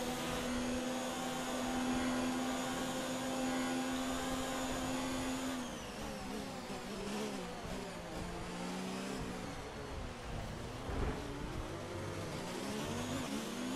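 Race car engine droning steadily through the final lap of a racing video game, a loud continuous whine with shifting pitch as it revs and changes gear, no talking over it.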